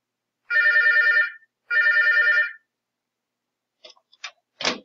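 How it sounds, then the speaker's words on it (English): A telephone bell rings twice in long electronic trills with a pause between them, then falls silent, followed by a few faint clicks and taps. No one speaks. "there goes my phone."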